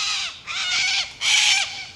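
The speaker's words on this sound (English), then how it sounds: "Cockatoos are very noisy birds." Cockatoos screech in a park, two long, harsh, raucous bursts close by and loud, with a brief gap between them and no talk.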